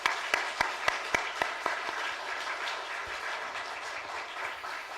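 Church congregation clapping at a Christmas service, a dense steady applause with a few sharper, closer claps standing out at the start, then settling into an even, moderately loud patter that continues throughout.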